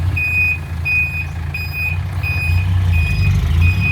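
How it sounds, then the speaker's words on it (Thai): A truck's reversing alarm beeps steadily, about twice a second, over a low rumbling engine. "โอ้เสียงถอยไหม"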